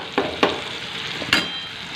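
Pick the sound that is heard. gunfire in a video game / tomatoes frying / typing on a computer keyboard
tomatoes frying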